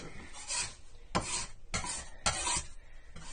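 A bevelled dough scraper drags across a floured worktop in repeated rasping strokes, about five short scrapes with brief pauses, close and fairly quiet, with no talking.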